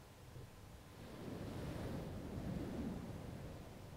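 Water in the video game Brothers: A Tale of Two Sons, a soft continuous wash like surf or rushing water that swells slightly midway, faint and alone.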